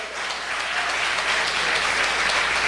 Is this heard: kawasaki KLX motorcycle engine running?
no